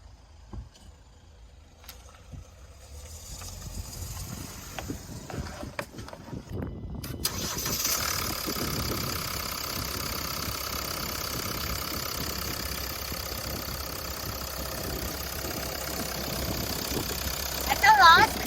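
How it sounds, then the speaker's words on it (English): A used car's engine cranks and catches, then settles into a steady, rough mid-pitched idle close by that continues for the rest of the stretch. "start the engine, listen to the sound, and check the vibration"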